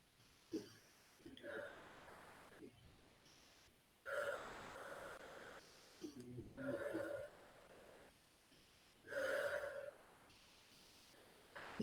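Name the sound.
rhythmic panting breathing exercise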